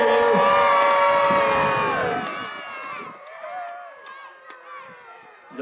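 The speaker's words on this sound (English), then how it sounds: "give them a cheer as they go past, ladies." A loud crowd at a St George's Day jousting spectacle cheers and shouts as the knights ride past, the roar building at first, then fading into scattered voices and calls.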